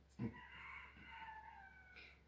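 A rooster crows faintly in the distance outdoors, one drawn-out call heard alone over a low steady background hum.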